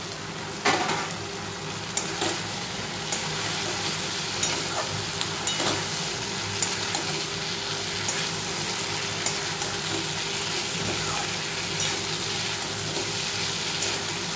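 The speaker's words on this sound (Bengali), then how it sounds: "ভাজা চিকেন বড়াগুলো দিয়ে দিলাম।" Fried chicken fritters are stirred in a pan with salt, sugar and red chilli powder for a mushroom chicken fry, giving a constant loud sizzle broken by regular scraping knocks of the spoon against the pan.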